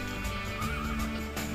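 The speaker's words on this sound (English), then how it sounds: "And there's lots of horses." A horse neighs in Minecraft Beta 1.3 with the MoCreatures mod, a short whinny over a steady game background of about a second and a half, with no talking.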